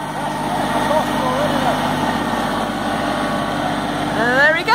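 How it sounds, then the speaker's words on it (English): Ride-on lawnmower engine running with a steady, continuous drone throughout, while voices talk over it nearby. "He's always wanted to ride on a lawnmower."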